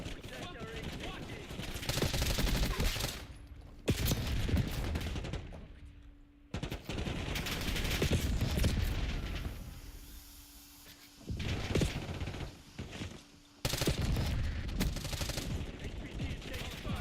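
Rapid bursts of automatic gunfire crackle through a multiplayer shooter match, interspersed with in-game voice callouts about protecting an HVT, with heavy overlapping action noise and brief quieter gaps.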